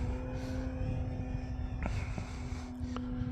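An FMS Pitts model airplane flies at full throttle, its small engine giving a steady, buzzing drone with a high, sustained tone and slight pitch shifts as it passes during aerobatics.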